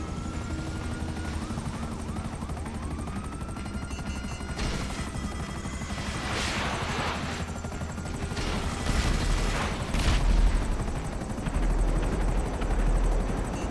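Buzzard attack helicopter in GTA Online, with steady rotor thrum and engine whine, punctuated by bursts of gunfire and explosive booms that grow heavier toward the end.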